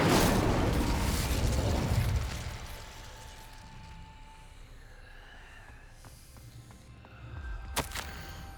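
An Incendio fire spell cast in Hogwarts Legacy gives a loud, roaring whoosh of flame that gradually dies away, followed by quieter magical chimes and shimmering tones and then a brief flaring burst near the end.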